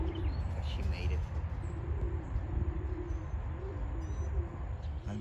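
Racing pigeons coo softly in low, repeated calls, mixed with faint chirps over a steady background rumble.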